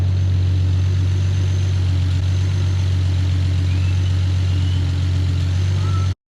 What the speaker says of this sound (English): 2000 BMW 5 Series, 6-cylinder. Coil unplugged, EFI, and I'm getting some erratic crap right now.